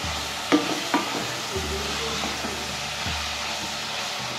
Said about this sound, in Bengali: তেল নিয়েছি, এর মধ্যে আমরা পেঁয়াজ দিয়ে আমরা এর মধ্যে দেবো লঙ্কা, এরপর টমেটো দিয়ে আমরা ভালো করে এটাকে কষিয়ে রান্না করে নেব